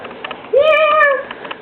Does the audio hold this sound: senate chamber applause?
no